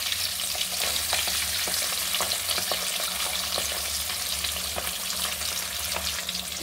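Hilsa fish pieces shallow-frying in hot oil, one at a time, give a dense, continuous crackling sizzle, loud and close throughout, with faint spattering pops and no voices.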